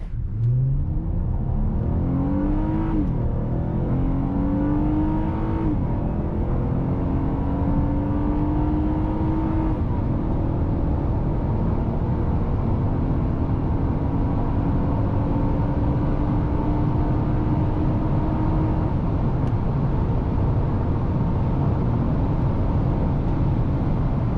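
A car accelerates from a near stop with a loud, close engine note that rises repeatedly through the gears, each pitch sweep climbing and then dropping at the shift.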